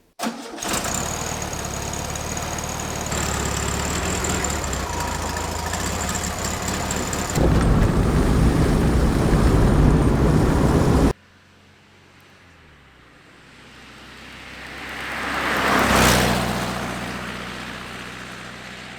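A classic VW Beetle on a road test drive, its engine droning steadily close by, getting louder as it accelerates, then cutting to quieter road ambience as a vehicle passes by in a swelling whoosh.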